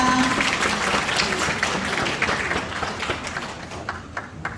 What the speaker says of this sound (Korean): 모두 세레모니를 마친 기념으로 큰 박수 부탁드립니다.